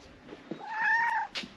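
A single cat meow, drawn out and fairly close, rising and then falling, with a shorter chirping sound right after it.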